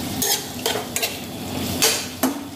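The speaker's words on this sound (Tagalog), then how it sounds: "Haluin natin ng haluin para may halo ang paminta." Pepper being stirred into a sizzling frying dish, a utensil scraping and clinking against the pan in several distinct strokes over a steady hiss of frying.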